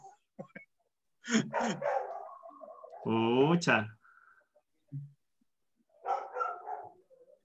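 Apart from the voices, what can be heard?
dog barking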